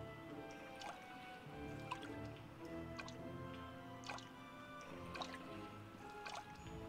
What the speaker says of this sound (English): the swimming sound effects are, like, really peaceful